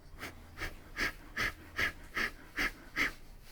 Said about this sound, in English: stretch and begin breath of fire